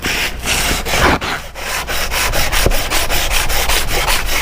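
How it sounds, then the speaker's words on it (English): A screwdriver is sanded with emery cloth wrapped around a file, giving close, loud rubbing strokes in a quick steady rhythm with no talking. "this type of sandpaper, like emery cloth. Okay, you wrap it around something flat like the file or a piece of wood"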